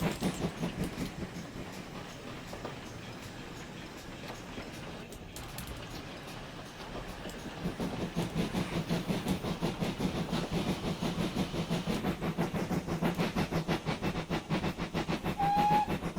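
A GWR Large Prairie steam locomotive in Train Simulator Classic works hard with a steady rhythmic chuff and rail clatter, growing louder partway through, with a brief whistle near the end.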